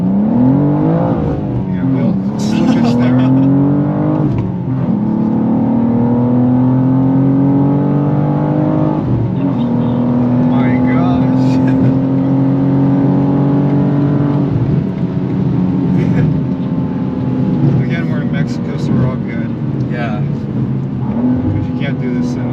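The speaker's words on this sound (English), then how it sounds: "That's a 4th gear pull. Oh my gosh, this power band is monstrous." A 2024 BMW M2 G87 pulls hard in fourth gear, its engine note climbing steadily and loudly through long rising sweeps inside the cabin, with talk over it.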